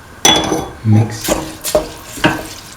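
A tofu, soaked rice and water mixture is stirred in a pot, with a spoon scraping and knocking the metal sides in several uneven strokes over a soft simmering hiss, close and fairly loud.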